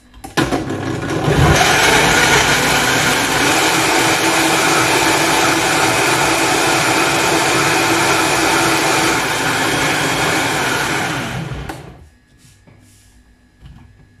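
A blender whirs loudly and steadily as it mixes mango and water into juice, starting abruptly, running at full power for about ten seconds, then cutting off into quiet room sound.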